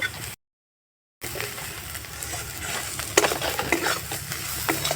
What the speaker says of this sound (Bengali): এই মশলাগুলো দিয়ে ভালো করে কষিয়ে নেব সবজিটার জন্য